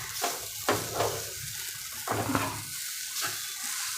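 Crushed fresh coconut and semolina roast together in a pan, with repeated scraping stirs every second or so over a soft, dry sizzle, close and moderately loud.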